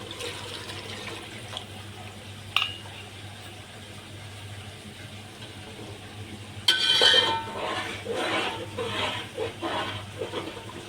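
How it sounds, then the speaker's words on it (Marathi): Faint background hum and a brief clink, then water mixed with cornflour splashes and pours into a cooking pot in uneven bursts for several seconds. "आपण यामध्ये जे पाणी घेतलं आपण कॉर्नफ्लॉवर टाकून ते आपण यामध्ये ॲड करणार आहोत"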